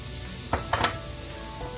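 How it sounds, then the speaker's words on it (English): Soft scrambled eggs with shredded cheese get stirred in a pan over low heat, giving a faint sizzle with a few quick scraping strokes of the utensil partway through. "Give it a good stir"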